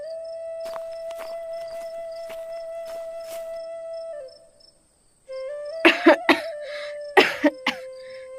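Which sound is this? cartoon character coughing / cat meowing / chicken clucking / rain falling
cartoon character coughing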